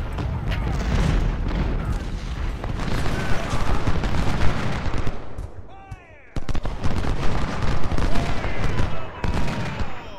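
Cannon and gunfire from a Civil War battle in the strategy game Ultimate General: Civil War, with loud repeated booms and crackling volleys forming a dense, continuous barrage and a brief drop near the middle.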